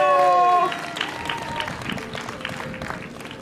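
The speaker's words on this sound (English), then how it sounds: "Let's give a round of applause for our young kings up here." An audience at a San Francisco KOO crowning ceremony for SFUSD students applauds in a short burst of many hands clapping at moderate distance.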